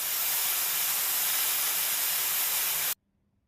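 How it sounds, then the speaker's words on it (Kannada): A pressure cooker full of vegetable pulao on the stove vents a loud, steady hiss of steam for about three seconds, then cuts off abruptly into near silence. "ಇವಾಗ ಇದನ್ನು 2 ವಿಷಿಲ್ಗೆ ಕೂಗಿಸ್ಕೊಳ್ಳೋಣ. 2 ವಿಷಿಲ್ ಬಂದ ತಕ್ಷಣ ಸ್ಟವ್ ಆಫ್ ಮಾಡ್ಕೊಂಬಿಡಿ"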